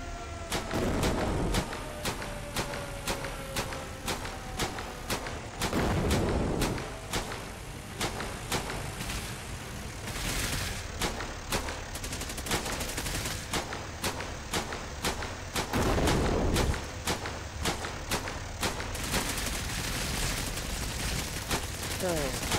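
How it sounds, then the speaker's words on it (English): Mortar fire in Cepheus Protocol horde mode, with three or four heavy booms landing among a constant stream of sharp, rapid gunshot cracks in a busy battle soundscape. "Two mortars going now."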